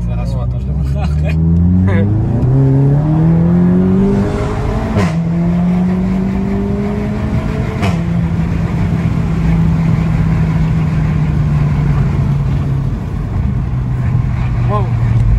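Volkswagen Golf 7 GTI Clubsport engine revving up through the gears, its loud, steady drone climbing in pitch with distinct shifts, close and continuous, with occupants chatting over it.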